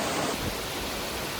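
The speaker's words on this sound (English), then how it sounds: "Goodbye, beautiful waterfall." A waterfall in Shenandoah National Park roars as a steady broadband rush of falling water, close and continuous with no voices, ending in a brief low thump.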